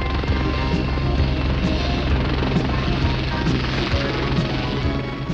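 Westland 30 transport helicopter, a Lynx-derived military machine with uprated engines, running steadily and loudly with a continuous low rotor thump and broadband turbine roar throughout.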